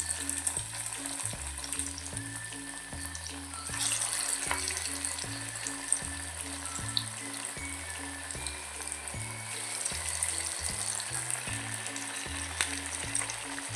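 Onion vada fritters fry in hot oil with a constant, dense sizzle and crackle, while a rhythmic low background beat pulses steadily underneath and no one speaks.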